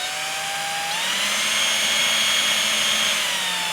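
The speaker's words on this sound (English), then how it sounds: "I'm going to run the drill bit backwards. Okay? And then I'm going to run it forwards" A power drill whines steadily as it bores through a lacquered guitar surface into the wood, its pitch shifting slightly as the bit bites, loud and close with no talking.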